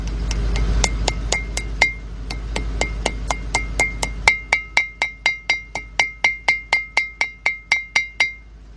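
Hammer knocking a new front wheel bearing seal into place on a 1996 Ford F150 pickup, a close run of about two dozen sharp metallic taps in a steady, even rhythm.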